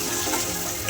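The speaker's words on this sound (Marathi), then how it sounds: "कढईमध्ये तेल थोडं होतं, त्याच्यामध्ये 1 छोटी वाटी कांदा टाकला मी." Chopped onion sizzles in a little oil in a wok, a steady close crackling hiss that does not let up, with no voices.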